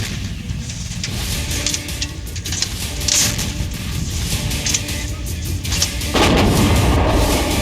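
An M777 ultra light howitzer fires amid heavy artillery, with loud, continuous booming blasts and rumbling that sound near and dense throughout, with no talking.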